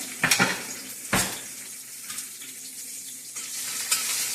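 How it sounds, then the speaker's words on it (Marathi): Cumin, chilli and garlic sizzle in hot oil in a pan, a soft steady frying hiss broken by a few sharp clinks and scrapes of a stirring utensil against the pot. "ऑलरेडी तेल तापून घेतलेलं आहे त्यात थोडेसे जिरे मी कांदा मिरची लसूण ठेचून घेतलेला आहे मिरची आणि मग नंतर लसूण टाकूया"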